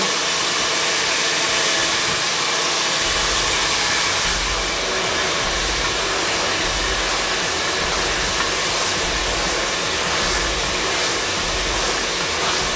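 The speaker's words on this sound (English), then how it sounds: "it's important that we dry these sections, you know, quite dry" A hair dryer blows continuously at close range while sections of hair are dried, a loud steady rushing roar that barely changes for the whole stretch.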